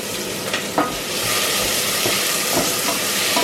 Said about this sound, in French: Je mets les oignons. Je tourne un peu.